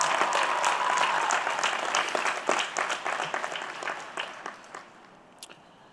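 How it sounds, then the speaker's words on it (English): Steady applause from an audience at a graduation ceremony in Reno, Nevada, many hands clapping at once, gradually thinning out toward the end. "Please join me in giving them a big round of applause."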